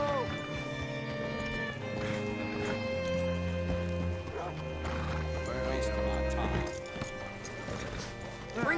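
Horse hooves clip-clop and a horse whinnies in Red Dead Redemption 2, with steady game music and character voices talking throughout at moderate loudness.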